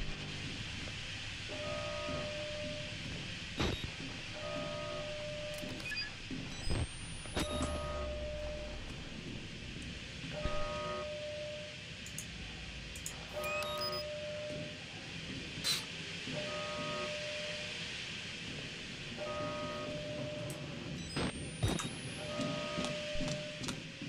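A faint, steady hiss of steam escaping a pipe in the horror game Outlast: Whistleblower runs throughout. It sits under a repeating mechanical tonal pattern and occasional soft clicks.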